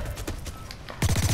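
Submachine gun fire in the shooter Blacklight: Retribution comes as a loud, rapid burst of closely spaced shots that cuts in sharply near the end, after quieter muffled game noise.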